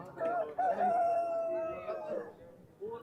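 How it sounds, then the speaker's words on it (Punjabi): A rooster crows one long drawn-out call, fairly close, followed by a brief shorter call; faint background murmur of a busy roadside poultry market. "ਮੁਰਗੇ ਮੁਰਗੀਆਂ ਸਾਰੇ ਜਾਨਵਰ ਇੱਥੇ ਆਉਂਦੇ ਨੇ"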